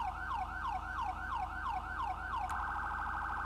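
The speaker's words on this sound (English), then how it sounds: "and that's your third siren." A police car siren in the FiveM game gives a loud, fast yelp in repeated quick sweeps, then switches abruptly to a rapid high warble over a steady low engine hum.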